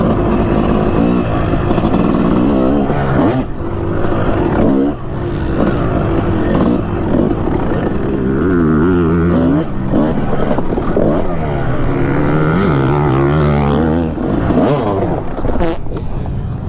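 A 2005 Kawasaki KX250 two-stroke dirt bike ridden on an enduro course, its engine revving up and down loudly and close, rising and falling with throttle blips throughout.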